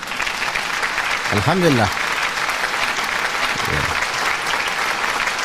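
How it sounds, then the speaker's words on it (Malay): Steady, thick applause from an audience gathered during Ramadan fills the room throughout, with a short spoken exclamation heard over the clapping. "Jadi apa kata kalau kita berikan tepukan gemuruh kepada kita semua."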